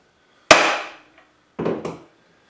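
A hammer strikes a center punch to mark a metal tap block on the workbench: one sharp ringing blow, a pause, then two quick taps close together, crisp and close with nothing else around them.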